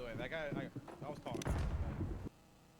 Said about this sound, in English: Got him with that nade there.